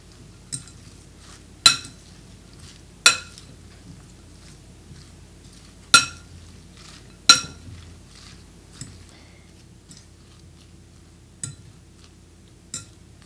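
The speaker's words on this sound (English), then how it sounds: "let's mix this vegetable together" Julienned carrots and other vegetables being tossed together in a bowl for Korean toast, heard as sharp intermittent clinks of a utensil against the dish with soft rustling between them.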